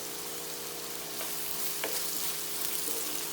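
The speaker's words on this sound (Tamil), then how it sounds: "இப்போ ஆனியன் நல்லா ப்ரௌன் ஆகிற அளவுக்கு நம்ம வந்து ஃப்ரை பண்ணிக்கலாம்." Onions frying in a pan with salt for a home-style Indian chicken curry, a steady close sizzle with soft scraping as they are stirred, no talking.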